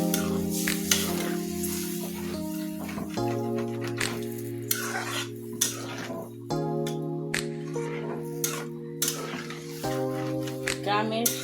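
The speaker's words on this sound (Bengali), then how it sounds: "দিয়ে দেবো এখন ঝোল। বেশি করে ঝোল দিলাম।" Broth poured into a pan of tilapia curry, a steady loud sizzle with clinks of a utensil against the pan, under continuous background music.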